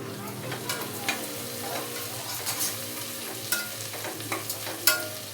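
Sambar ingredients sautéing in a pan with chili powder, salt and turmeric added, a close steady sizzle broken by repeated sharp stirring scrapes and clicks of a spoon.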